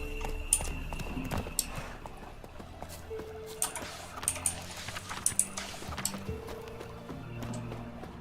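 A horse gallops in The Witcher 3, its hooves clip-clopping in a quick, uneven rhythm, with scattered clicky taps layered over a low background hum.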